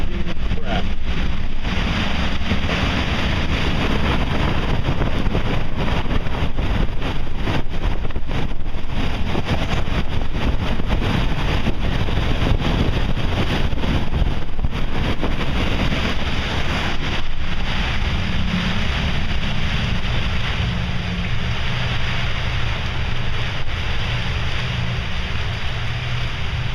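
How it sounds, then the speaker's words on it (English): Powerful wind gusts of around 70 mph off the New Jersey coast roar and buffet the microphone continuously, a loud rumbling blast that eases somewhat toward the end. "There it is, 70-mile-an-hour winds."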